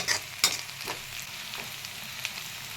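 Onions fry in a pan while being stirred for paneer do pyaza, giving a soft, steady sizzle with a couple of sharper scraping stirs near the start; no voices.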